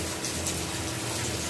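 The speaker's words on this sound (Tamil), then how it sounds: "ஒரு லெமன் சைஸ் புளியை ஊற வச்சு கரைச்சி உள்ளே ஊற்றிக்கோங்க" Dissolved tamarind water poured into a pan of tempered curry leaves for a brinjal kuzhambu, a steady, continuous liquid gush at close range with no talk over it.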